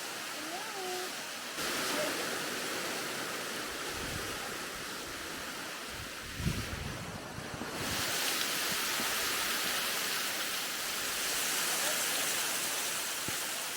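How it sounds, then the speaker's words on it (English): A waterfall surrounded by icicles, with chunks of ice breaking off, gives a loud, steady roar of rushing water close by. The roar runs nearly the whole time, with a few brief low thuds in the middle and faint voices underneath. "I was over there under the waterfall and like snowballs were spitting out from it."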